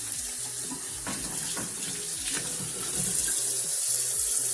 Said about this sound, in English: Should use warm water, not cold.